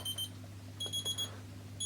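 A TokyoFlash Kisai Adjust LED watch alarm beeps in quick high-pitched bursts, two clusters of rapid chirps, faint and close against a low steady hum.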